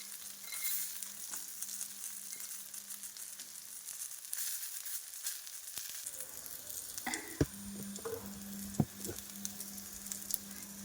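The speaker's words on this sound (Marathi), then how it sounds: "या स्टेजला मिरच्या चांगल्या भाजल्या गेल्या आहेत" Green chillies with garlic, cumin and roasted peanuts sizzle steadily in a pan for a chilli thecha, with occasional sharp crackles and stirring scrapes; no talking.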